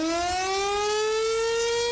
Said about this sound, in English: This is the sound people in Comfort, Texas hear every day at noon when one of the community's 2 tornado sirens is tested